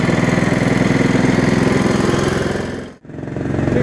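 An 11hp Honda-powered tractor engine runs slowly in sixth gear, a loud, steady, throbbing drone that dips sharply near the end before picking back up, with no voices.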